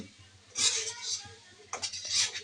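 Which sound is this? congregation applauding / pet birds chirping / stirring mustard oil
stirring mustard oil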